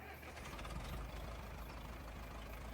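An old tractor with a flappy exhaust cap idles in Farming Simulator 25, a low, rough, steady engine rumble at moderate volume under a faint bed of noise.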